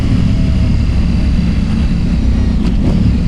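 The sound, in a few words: loud motorcycle engine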